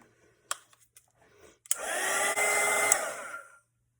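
Hair dryer drying paint on a Christmas snowman canvas, switched on after a few small taps and clicks, blowing a steady loud whoosh for about two seconds before cutting off.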